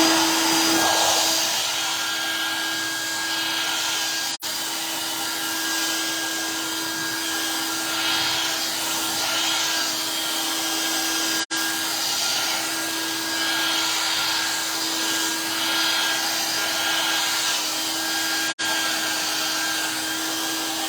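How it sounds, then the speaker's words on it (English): Continuous steady whoosh of a hair dryer running close by, with a constant motor tone and a few tiny clicks, no talking. "Now I'm going to use the hairdryer again"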